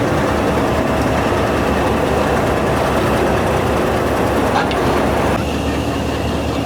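A diesel locomotive of the Jand shuttle train, an HBU 20 from a Pakistani shed, runs with a loud, steady low engine drone and rumble, close by, continuous with no pauses.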